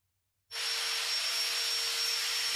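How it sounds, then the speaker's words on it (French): A welding arc starts abruptly on vertical-axis fixed tubes in a workshop during the first pass, then holds as a steady, loud, even hiss after a moment of near silence. "À l'atelier, allez souder des tubes en corniche en première passe."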